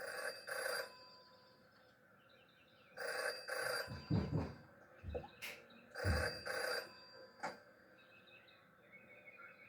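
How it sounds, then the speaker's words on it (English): An old-style telephone bell in a video game rings in repeated double bursts at a moderate distance, with quieter electronic tones and faint clicks between rings. "never to ignore a ringing phone"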